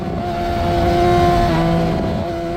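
A Yamaha R6 sport motorcycle on a race track down the straight, its engine holding a loud, sustained high-revving whine that shifts pitch partway through under wind roar.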